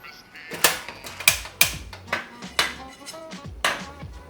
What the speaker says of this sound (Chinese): 我们来炒这个花生的碎粒啊，把它炒熟，然后把它炒香啊